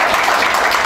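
An audience at a Christian community gathering in Nepal breaks into applause, a short, loud, dense burst of clapping heard alone.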